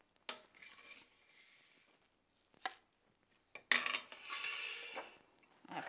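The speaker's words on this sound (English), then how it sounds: "it's always good to use a little mortar and pestle" Spices being crushed in a small mortar and pestle: a few separate sharp grinding knocks, then a louder sustained scraping crunch toward the end, close and otherwise quiet.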